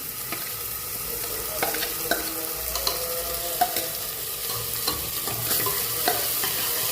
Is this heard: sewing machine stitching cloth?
no